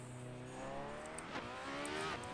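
A racing car in a sim racing video game revs its engine, giving a smooth harmonic whine that rises and shifts in pitch and holds steady at a quiet level with no other sounds.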